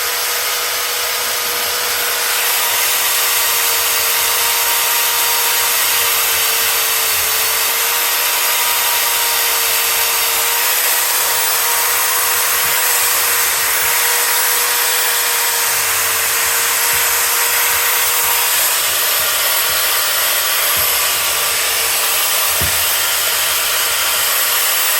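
A powered wire brush cleaning threads on a Land Rover 110 Defender gives a continuous loud, rough whirring hiss with a steady tone, running without a break for about twenty-five seconds.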